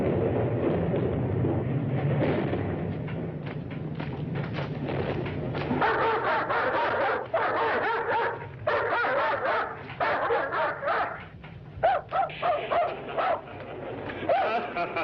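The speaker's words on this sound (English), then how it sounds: "tell him to take that howling mutt with him" A dog barks, yips and whimpers repeatedly in bursts, fairly close and loud, over a low rumbling background early on, with the barking growing more frequent toward the end.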